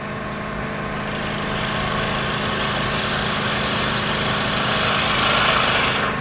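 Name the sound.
wood lathe spinning a workpiece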